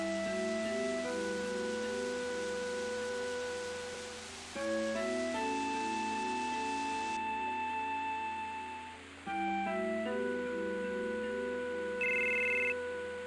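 A telephone rings in Final Fantasy VII, three repeated electronic ringtone bursts of layered tones, each lasting about four seconds with brief gaps between, steady and fairly quiet with no talking over it.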